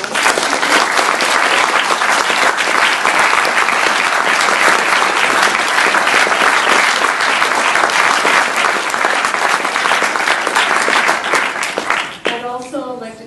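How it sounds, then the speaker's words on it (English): Loud, sustained applause from a large crowd at a Fredericton council candidates' event, dense clapping filling the space for several seconds before fading, with a voice starting up at the end. "Can we please give the candidates a round of applause?"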